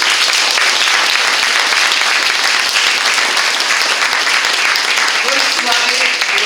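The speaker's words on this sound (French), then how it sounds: "je vous demande de les applaudir bien fort" Loud, dense applause from a theatre audience greeting a children's stage performance, a steady wash of many hands clapping without pause throughout.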